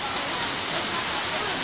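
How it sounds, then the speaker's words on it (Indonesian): Air Terjun Cinta waterfall at Kaligua, Brebes, roars as a loud, dense, unbroken wash of falling water that fills the scene from nearby. "bisa dilihat air terjunnya yang itu sungguh unik semburannya"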